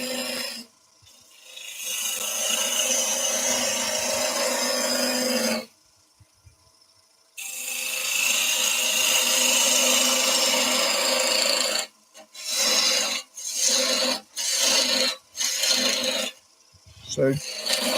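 Gouge cutting a concave curve into driftwood spinning on a wood lathe, a loud continuous rasping scrape that stops and restarts, then breaks into short repeated bursts toward the end.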